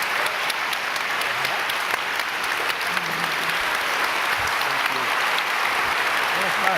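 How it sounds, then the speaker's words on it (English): Sustained applause from a large lecture-hall audience for visiting Supreme Court justices at Harvard Law School, steady and dense clapping filling the whole stretch at close range with no pauses. "Let's give a big round of applause for the justices."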